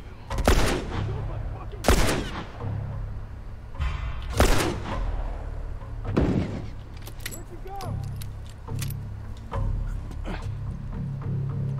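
Gunshots ring out in The Last of Us Remastered, several sharp loud bangs spaced a second or two apart amid rattling and clatter, with a voice speaking over them.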